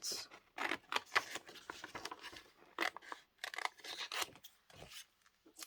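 Scissors snip a paper picture of a princess banana pudding out of a magazine for a collage, making repeated crisp close cuts and rustles in short uneven bursts, quiet, with no talking.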